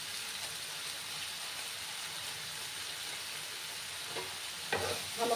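Baigan bharta being stirred in a frying pan with a steady, close sizzle throughout and a few louder scraping stirs near the end.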